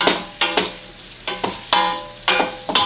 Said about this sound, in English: So use your heat, stir them around